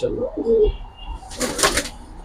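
Pigeons in a loft give a few soft coos nearby, followed by a brief flurry of wing flaps.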